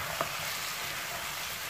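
Tomato frying with chicken in a pan gives a steady, even sizzle, with a brief scrape of stirring near the start.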